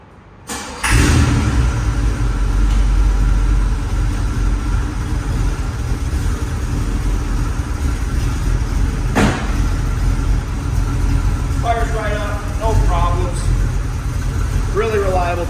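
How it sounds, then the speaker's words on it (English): A 1938 Chevrolet Master Town Sedan hot rod with a 350 V8 fires up at about one second and settles into a steady, loud, low rumbling idle close by, with voices talking over it. "Really reliable 350. Sounds good. It's got a nice rumble to it."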